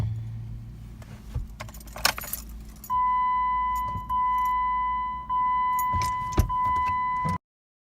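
Keys jangle as a key is turned in a Jeep's ignition, followed by a steady electronic chime that pauses and resumes several times while the engine fails to start; no cranking or engine is heard.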